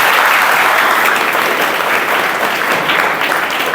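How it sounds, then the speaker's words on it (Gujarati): Loud, sustained applause from a school audience at a high school prize and motivational event, dense steady clapping filling the whole stretch with no break. "એમને આપણે એકવાર જોરદાર તાળીઓ બજાવીએ"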